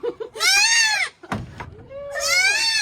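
A goat bleats loudly and close by in two long, wavering calls separated by a short pause with a brief thump between them.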